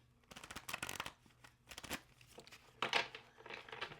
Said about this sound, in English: the cards don't want to shuffle when I try a new shuffle